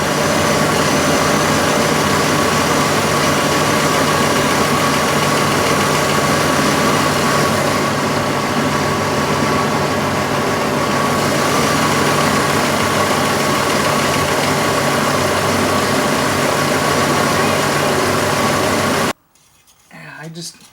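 A worn 4-liter engine idles steadily and loudly up close with a faint repeating tick, then cuts off abruptly near the end.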